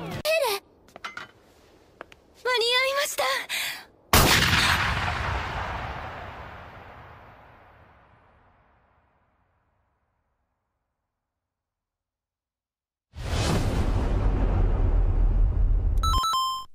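A loud burst of gunfire from guns built into a cyborg girl's arms in the anime Akame ga Kill, with a long decaying boom followed by silence, then a second sustained blast, after short electronic beeps and voices.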